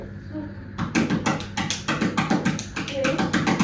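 A train rattles across a bridge, its wheels striking a fast, steady rhythm of heavy clanking beats that keeps going throughout.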